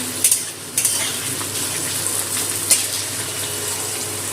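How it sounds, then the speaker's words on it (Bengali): Thinly cut potatoes fry in a little oil, giving a strong continuous sizzle with a few sharp clinks of a utensil stirring the pan, no talking. "তিনটে ছোট আলু সরু করে কেটে এর মধ্যে দিয়ে দিচ্ছি। একটু তেলে ভেজে নেব।"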